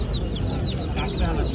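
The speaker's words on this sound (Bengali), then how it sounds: "এখানে কিছু মুরগির বাচ্চা আনছে" Chicks and chickens cheeping and clucking in a crowded bird market at Hemayetpur Haat, high peeps over a dense, steady murmur of market noise.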